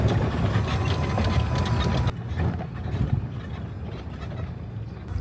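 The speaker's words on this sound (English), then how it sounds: "And now I'm driving the golf cart." A golf cart hums and rattles along while being driven, a steady close mechanical drone with clicking and road rumble that drops to a quieter, rougher running sound partway through.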